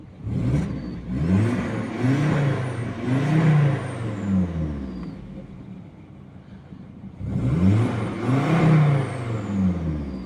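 A Volvo 2.5 turbo petrol engine, just back together after a timing belt job, revs close up in two strong, rising bursts with a steadier running lull between them.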